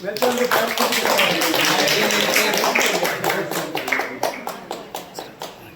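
An audience at a send-off ceremony for a temple priest applauds steadily, the dense clapping thinning to scattered claps toward the end, with voices mixed in.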